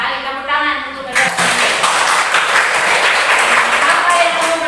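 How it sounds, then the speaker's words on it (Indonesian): Students in a classroom clap together for a classmate. A teacher speaks first, then close, brisk hand clapping takes over and continues evenly to the end. "Tepuk tangan untuk Brenda."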